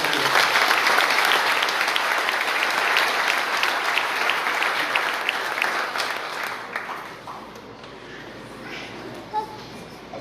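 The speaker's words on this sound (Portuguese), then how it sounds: "Eu queria que você desse uma salva de palmas a Jesus pela vida dessa mulher." Church congregation breaking into warm applause during an evening communion service, a full, sustained roar of clapping that gradually thins and fades, with a few scattered claps and voices lingering at the end.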